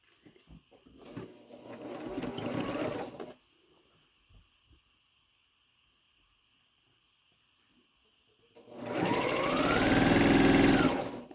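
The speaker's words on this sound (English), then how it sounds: "And I am taking a back stitch when I put these rows together" A sewing machine sews and back-stitches rows of a quilt block. Two close, steady mechanical whirring bursts are heard, with quiet pauses between them and a low hum underneath.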